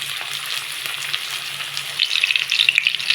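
Chopped onion and garlic frying in a pan, with a steady close sizzle that turns into brighter, crackling spatter toward the end, with no talking.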